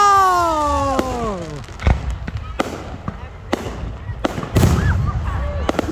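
New Year fireworks at Loch Sport burst in a series of sharp, loud booms and cracks, some near and some farther off, opening with a rising whistle, while people talk and exclaim nearby.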